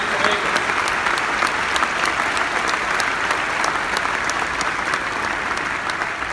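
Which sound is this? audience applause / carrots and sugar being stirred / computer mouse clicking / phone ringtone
audience applause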